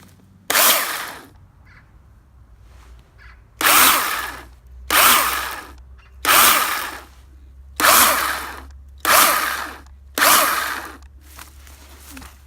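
An electric chainsaw used for backyard cleanup revs in seven loud, close bursts of whining motor and cutting noise, each lasting about a second, with quiet gaps and a low background hum between them.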